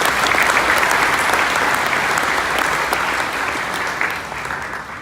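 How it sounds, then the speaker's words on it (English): Sustained audience applause at a mayor's gala for the co-MCs, a dense, steady roar of clapping from a large crowd, loud and continuous, tapering slightly toward the end. "How about a big round of applause for our co-MCs?"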